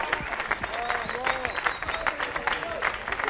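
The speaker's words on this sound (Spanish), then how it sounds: "Un aplauso para la raza que vino a rock and rollear." Crowd applause at a rock concert in Mexico, with dense steady clapping and cheering across the whole stretch. Brief whistles and shouts rise over it.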